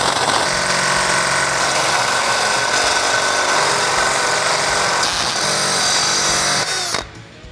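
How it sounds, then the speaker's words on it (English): A power drill bores a hole with a 5/8 inch bit while fitting a Teraflex suspension to a Jeep Wrangler JK, whining loud and steady for about seven seconds before winding down and stopping. "we're gonna go and drill that outside hole"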